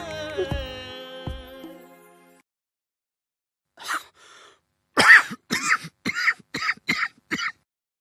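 A person suffering from a cough and cold coughs several times in a quick, loud cluster, preceded by a short tonal sound and brief breathy noises.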